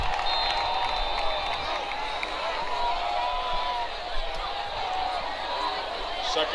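Crowd noise at a high school football game between Mounds View and Forest Lake keeps up a steady, dense roar of cheering and chatter from the stands, with a commentator talking over it.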